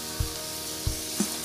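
Egg samosa frying in hot oil gives off a steady close sizzle with a few soft bumps and splashes as the pieces shift in the pan, and no talking.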